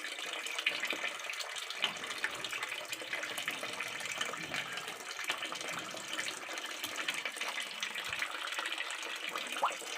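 Tap water pours steadily into a container holding pet catfish, a continuous close splashing gush with no voices.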